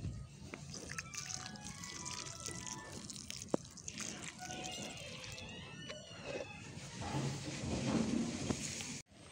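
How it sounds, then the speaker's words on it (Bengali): Diluted oilcake water poured onto garden plants, soft trickling and dripping with splashes close by, fairly quiet, a voice briefly heard in the background. "এই যে একটু খোল জল দিয়ে দিচ্ছি"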